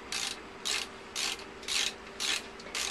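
Ratchet wrench undoing the last bolt on a lid aboard a cruising yacht, six rhythmic bursts of rapid pawl clicking, each about a quarter second long with short pauses between, close and clear, no voices.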